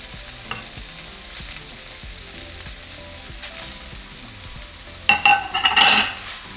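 Chorizo and pork frying in a pan: a steady low sizzle with faint scraping stirs, rising to a louder crackling hiss near the end as fresh meat hits the hot pan.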